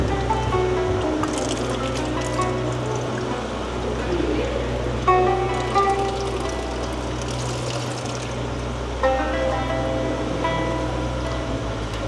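Spring water trickles and flows steadily as it is drawn at a fort in Diyarbakir, a constant wash of liquid with a low hum underneath and a few brief splashier surges.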